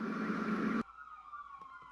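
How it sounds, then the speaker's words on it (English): Wailing emergency vehicle siren on a New York City street, loud and close at first with a wide noisy wash, then abruptly dropping to a fainter, thinner wail sweeping downward in the distance. "Sorry about the sirens, guys."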